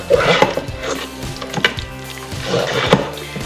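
Ingredients with cheese stirred together in a single pan, giving repeated scraping and clattering strokes of a utensil against the pan in an irregular rhythm, close and alone.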